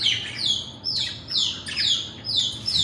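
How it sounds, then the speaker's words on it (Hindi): A pet bird squawks and chirps in a steady run of about five sharp, high calls, each one clear and close, with no one talking. "ये देखें चिड़िया।"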